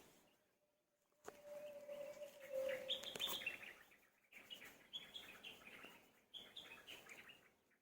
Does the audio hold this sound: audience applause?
no